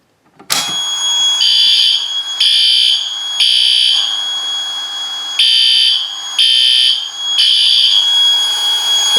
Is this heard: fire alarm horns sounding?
yes